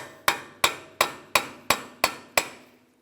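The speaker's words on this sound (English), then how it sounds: "We'll use a hammer and punch right in the center of the axle to break this free." A hammer strikes a punch set in the center of a front axle on a 2003-2007 Honda Accord, seven sharp, evenly spaced metallic blows close up with no talking.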